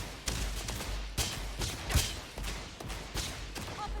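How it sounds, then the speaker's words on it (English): Gunfire rings out in the space game Starfield: scattered shots and short bursts land at irregular intervals, moderately loud, with low thumps beneath and no talk. "Who's shooting at me now?"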